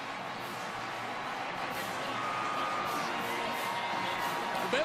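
A Kansas State home football crowd in Manhattan roars in a steady, dense wash of cheering against Baylor, sustained throughout with faint whistles and whoops.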